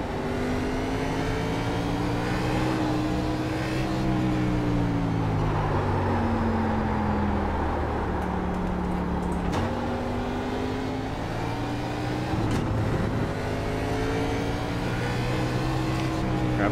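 A NASCAR race car engine at Watkins Glen in iRacing drones and revs steadily, its pitch rising and falling through shifts and corners, loud and continuous with faint speech underneath.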